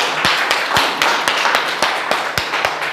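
A crowd at a Galaxy School Kathumar result celebration for class 10 and 12 arts students claps loudly and continuously, a thick wash of applause with sharper individual claps standing out throughout.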